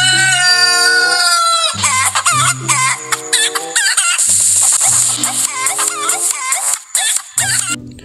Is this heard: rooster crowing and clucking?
yes